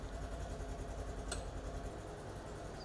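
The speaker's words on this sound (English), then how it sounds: "Next, start the engine and allow it to idle for 30 seconds." The engine of a 2024 Polaris XPEDITION off-road vehicle idles quietly and evenly after an oil and filter change, a steady low drone broken by one brief sharp click partway through.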